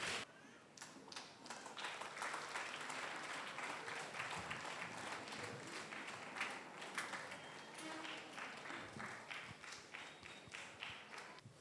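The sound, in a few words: congregation applause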